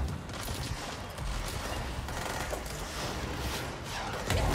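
Chaotic combat in the video game Control: a dense, sustained barrage of blasts and rattling gunfire-like bursts, loud and unbroken.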